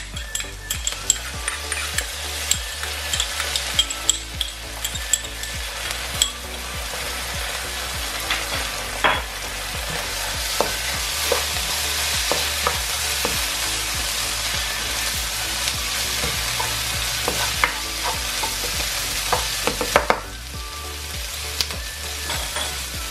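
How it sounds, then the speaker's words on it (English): Onions, garlic-ginger paste and chilli fry in a pan for a lamb curry, a loud continuous sizzle with frequent stirring scrapes and occasional clinks of the utensil against the pan, close and without talk. "I'm going to add my garlic and ginger paste and my chilli."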